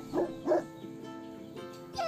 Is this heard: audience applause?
no